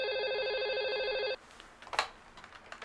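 A telephone rings loud and steady with a bright electronic ringtone for about a second and a half, then cuts off into quiet room noise and a few faint clicks.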